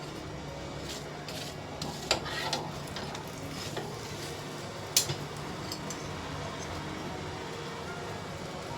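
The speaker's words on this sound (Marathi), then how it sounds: "आता हा दोन्ही साईडने शेकला आहे, तेव्हा आपण त्याला तेल लावून घेऊया मस्तपैकी." Methi paratha sizzling in oil on a hot griddle, a steady broadband crackle running unbroken throughout, with a couple of sharper pops standing out briefly along the way.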